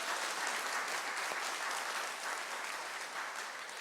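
A church congregation applauds the choir, conductor and accompanist during a Sunday worship service, giving a continuous, soft and distant-sounding wash of many hands clapping that tapers slightly near the end.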